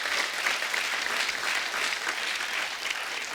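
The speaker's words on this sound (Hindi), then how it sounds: "उस फिल्म के लिए जोरदार तालियां हो जाए।" A studio audience at a televised Hindi comedy talk show applauds warmly for a film, a steady wash of many hands clapping at moderate volume throughout, with no voices over it.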